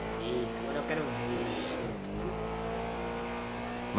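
A Lamborghini Urus engine roars steadily in a racing video game, holding a loud continuous drone with pitch shifts as it revs and accelerates throughout.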